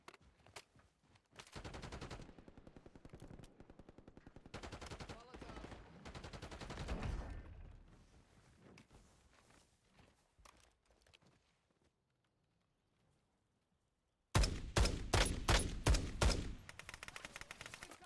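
Automatic gunfire in the shooter game Call of Duty Warzone, set in Verdansk: long rapid bursts in the first half, a quiet stretch, then another loud close burst near the end.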